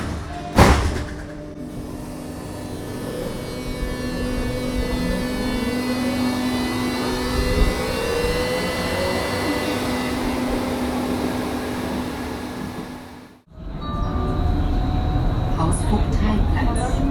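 A Berlin U-Bahn underground train rides with a loud, steady rumble and whining motor tones, a sharp knock near the start. The noise cuts out abruptly for a moment, then the rumble returns just as strong.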